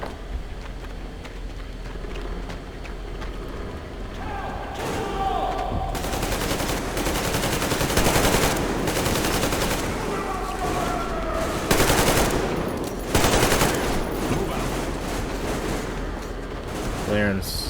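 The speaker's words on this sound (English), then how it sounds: "Covering fire for the colonel." Sustained automatic gunfire from a covering-fire battle in Metro Exodus, loud and continuous with dense bursts and heavier shots throughout, under some background talk.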